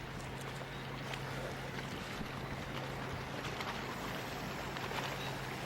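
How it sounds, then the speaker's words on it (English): Waves break over a reef off a rocky promenade on an Anguilla beach at moderate tide, giving a steady, broadband wash of surf with constant wind noise and no talk. "you can see the waves breaking over the reef."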